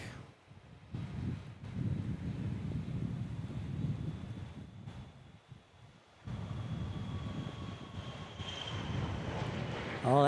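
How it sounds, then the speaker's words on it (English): A Gulfstream medevac jet takes off from Dallas Love Field under stormy skies, a broad, distant engine roar blended with heavy wind buffeting on the microphone. It swells, dips briefly, then returns steady and strong. "Nice little trails behind the Gulfstream as it elevates into the cloud."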